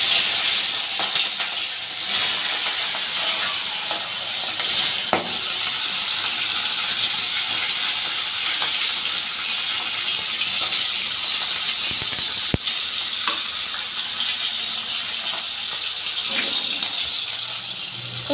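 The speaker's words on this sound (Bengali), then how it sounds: "তো এইভাবে উল্টে পাল্টে সুন্দরভাবে আমি মাথাগুলো আগে ভেজে নেব।" Katla fish heads frying in hot oil in a wok give a loud, steady hissing sizzle that runs without a break, close up, with brief clinks and louder spits now and then.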